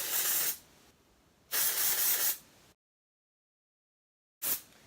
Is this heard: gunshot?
no